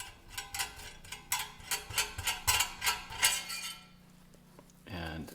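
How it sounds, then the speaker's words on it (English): The valve of a 1920s Prentiss-Wabers camp stove is unscrewed, giving a run of close metallic clicks and ratcheting clinks in an uneven rhythm, followed by a brief voice. "we'll just unscrew the valve"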